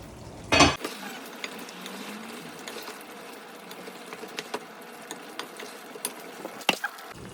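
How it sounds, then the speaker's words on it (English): Stirring a traditional Bengali dish in a pot, with soft intermittent scrapes and clinks of a spoon against the pot over a low simmer, one louder clatter at the start and another near the end. "Stir it a little bit."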